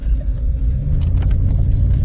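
A four-wheel-drive car drives along a snowy road, its engine and tyres making a steady, loud low rumble throughout with no talk over it.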